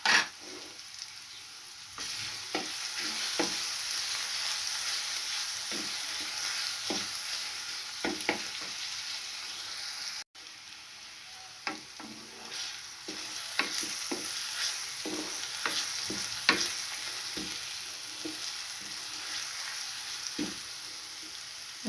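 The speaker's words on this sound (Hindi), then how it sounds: "इसका हल्का सा फ्राई करेंगे" Garlic paste frying in hot oil, a steady broadband sizzle running throughout with occasional stirring clicks and spatters, fairly close and alone.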